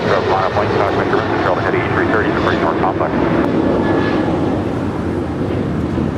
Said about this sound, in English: This is Alaska 290 departing to Guadalajara on a 737-900 ER.